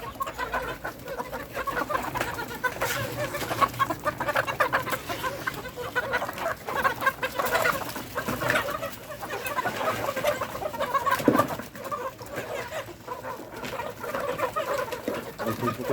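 A flock of 84-day-old Fayoumi chickens clucks continuously at feeding time, with overlapping calls from many birds at close to moderate distance and no speech.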